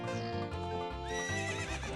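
Horse whinnying from Zelda: Ocarina of Time, a loud, continuous two-second neigh with shifting pitch layered over steady game music.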